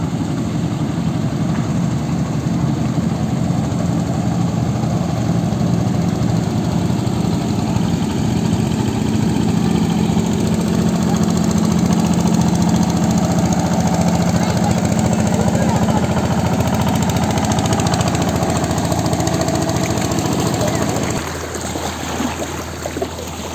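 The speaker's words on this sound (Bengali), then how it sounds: "এই যে হাট থেকে ট্রলার নিয়ে বাড়ি ফিরছে লোকজন" A trawler boat carrying people home from a market runs along a river, its loud engine droning steadily and throbbing close by for a long stretch before easing off near the end.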